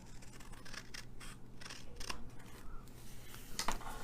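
Scissors snip through paper for a faceted gift box in a series of short, close, crisp cuts with irregular pauses between them, over a steady low background hum and no talking.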